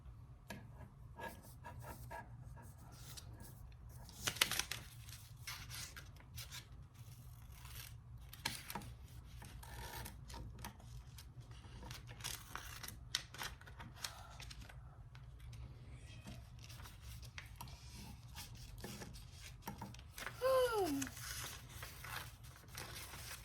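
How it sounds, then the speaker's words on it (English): Scissors snip through folded paper during a preschool binocular craft, making faint, quiet cuts and soft paper rustles scattered through a hushed room, with a few louder rustles near the end. "Can you cut on that line? Cut where you folded it."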